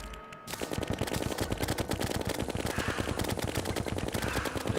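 The Mega Shark gun in the Terraria video game fires a rapid, unbroken stream of closely spaced shots, loud and steady after a brief quiet start and continuing to the end.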